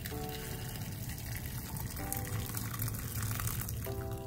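Water pours into a cooking pot with a continuous splashing, gushing stream that stays close and steady throughout.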